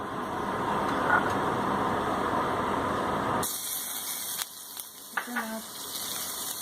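Butter or clarified butter sizzling in a pan before grated pumpkin goes in; a broad, steady hiss fills the first half, then drops to a thinner crackle with a few sharp pops.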